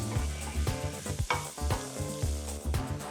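Garlic sizzling in a hot pan while being stirred, a steady crackling fry with repeated scraping stirs pulsing through it, close and fairly quiet, no voices.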